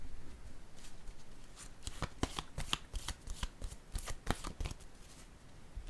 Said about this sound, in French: Bon, je vais piger une carte en cette zone.